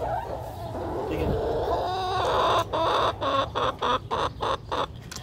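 Chickens cluck in a series of short, close calls, building into rapid rhythmic clucks in the latter half over a low farmyard background.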